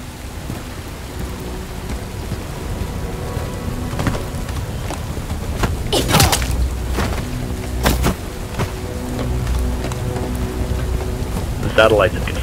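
Steady rain and rumbling thunder from a storm in the video game Bright Memory: Infinite, with a couple of sharp thunder cracks standing out over the constant downpour and game sound effects.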